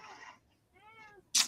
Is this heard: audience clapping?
no